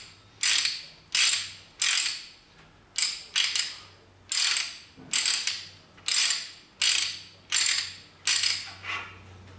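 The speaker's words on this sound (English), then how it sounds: "ratcheting action, and we can wind it back off" A Garrick hand ratchet pipe threader clicks through a run of about a dozen quick ratcheting strokes, each a sharp burst of pawl clatter in steady rhythm, close and clear with no talking.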